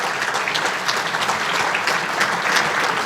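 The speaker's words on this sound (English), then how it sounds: "Yeah, you can clap for that." An awards-ceremony audience at a United Way event claps loudly and steadily, a thick, even roar of many hands with a few brighter individual claps standing out and no speech over it.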